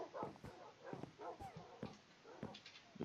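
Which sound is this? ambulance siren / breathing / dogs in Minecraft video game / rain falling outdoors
dogs in Minecraft video game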